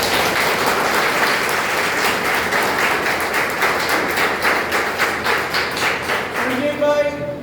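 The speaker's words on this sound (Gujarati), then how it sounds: "એ લોકોને આપણે તાળીઓથી વધાવી લઈએ" A crowd welcomes guests from Rajkot with dense, sustained applause. Clapping holds steady for several seconds and then fades out at the end.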